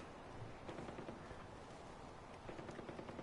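A big gun fires in Far Cry 4, rapid, continuous gunfire that swells again near the end, heard faint and distant with no voices.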